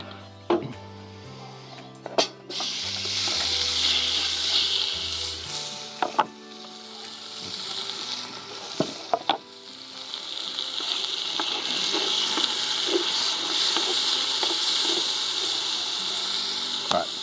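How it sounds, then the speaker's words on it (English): Venison sears in a hot pan with a steady, close sizzle and crackle that lasts throughout. Soft music plays underneath, and there are a few sharp knocks from a utensil or pan. "you want to sear your meat"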